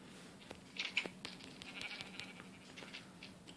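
Sheep bleat in the Survivalcraft video game, a few faint, thin calls over a hissy background with scattered soft clicks and taps.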